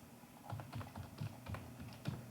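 Typing on a computer keyboard while writing code: a steady series of soft, close key clicks in an irregular rhythm, heard alone and fairly quiet.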